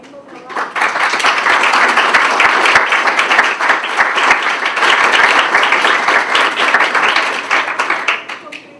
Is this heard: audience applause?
yes